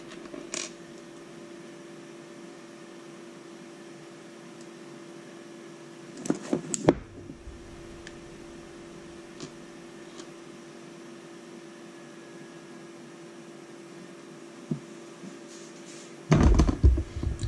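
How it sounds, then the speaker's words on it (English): Long 18 mm screws are driven with a 1.5 mm driver into a camera crawler frame, making two short bursts of creaking, grinding noise over a faint steady hum. "These are just really long screws. That's what the noise is about."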